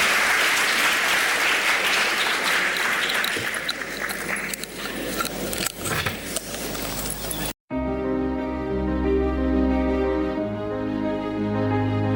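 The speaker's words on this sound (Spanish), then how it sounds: "creo que merecen un fuerte aplauso" Audience applause at a Catholic religious event in Bilbao, a dense burst of clapping that thins out before cutting abruptly to music.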